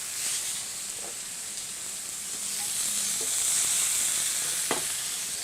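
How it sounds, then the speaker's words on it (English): Seasoned steaks sizzling in oil in a stainless steel skillet, a steady close frying hiss that swells slightly midway, with a few faint clinks and a short sharp tap near the end. "we'll add some oil to the pan, give it a swirl, and we'll add our seasoned steaks"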